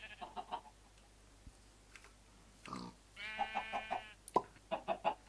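Minecraft chickens clucking in short repeated bursts, several quick clucks early, then a longer run of rhythmic clucks and squawks near the end, with faint game ambience between.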